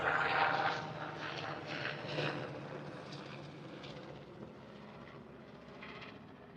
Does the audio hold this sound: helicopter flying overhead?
yes